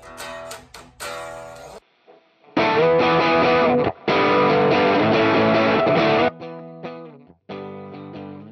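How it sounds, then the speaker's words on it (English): A recorded musical phrase played through a Fender MTG Tube Distortion pedal comes out loud and heavily distorted, with sustained buzzing chords in bursts separated by brief gaps and cleaner notes. "let's record something else and play it through the Fender MTG Tube Distortion"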